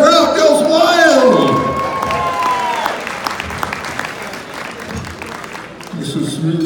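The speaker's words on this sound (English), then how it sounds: "The crowd goes wild." A crowd cheers and applauds after a juggling trick at a live juggling act, a dense wash of clapping and whoops that swells at first, then thins into scattered claps, with a voice surfacing near the end.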